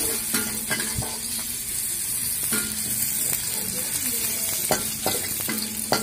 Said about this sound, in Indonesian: Kita tumis bawang merah duluan. Bawang merah sama bawang putih.